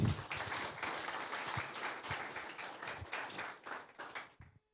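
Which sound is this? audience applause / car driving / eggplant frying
audience applause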